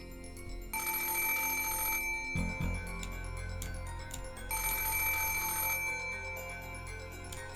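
A telephone rings in the visual novel game Umineko: two bright, sustained electronic ringing bursts, each lasting over a second, separated by a pause and sounding over steady background music.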